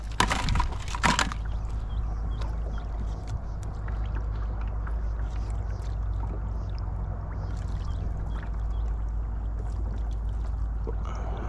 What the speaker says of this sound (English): I love this new motor on this kayak, man.